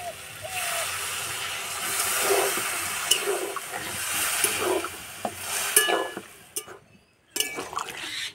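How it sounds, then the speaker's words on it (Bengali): Water added to frying vegetables in a pan, making a loud hissing sizzle that swells and fades with stirring, then briefly drops out before resuming, heard close, with some talking underneath. "এবার সিদ্ধ হওয়ার জন্য জল দিয়ে দেবো।"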